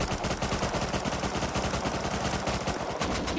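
Dense, continuous video-game gunfire, rapid automatic bursts packed tightly together at a loud, unbroken level with no voices heard.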